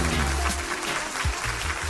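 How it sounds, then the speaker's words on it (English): Applause from a studio audience on a sports talk show, a steady dense patter of clapping that fills the short moment without any talk over it. "Round of applause."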